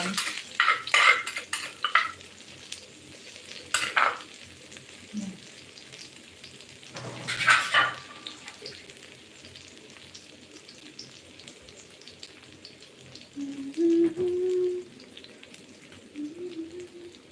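Dried chillies are stirred and roasted in a frying pan: intermittent bursts of scraping and clinking from the utensil against the pan over a faint background sizzle, close and fairly quiet.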